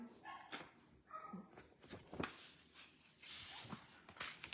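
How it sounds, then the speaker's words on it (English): Faint, distant dogs barking in scattered bursts, with a quiet background hum. "Can you hear my dogs barking?"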